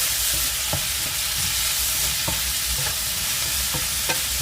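Ackee and smoked salmon fried rice stirred in a pan, a steady frying sizzle broken by several sharp scrapes and knocks of a utensil against the pan, with no talking.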